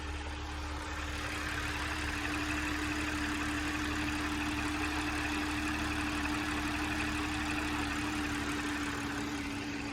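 An Audi engine, an S4-type model just after an oil change, idles steadily with a constant low hum and a faint tonal drone, loud and unchanging throughout with no voices.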